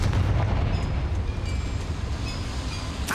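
A Confringo fire spell from the Hogwarts Legacy video game bursts into a loud, rumbling explosion that fills the whole short stretch, with a sharp crackle near the end.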